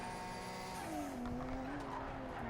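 A race car engine in Project Cars 3 drops in pitch through an upshift as the gear changes. It holds a continuous loud drone with some tire squeal over it.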